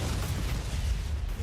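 A sustained, rumbling explosion in Warhammer 40K Inquisitor, a steady dense roar lasting over a second with no talk.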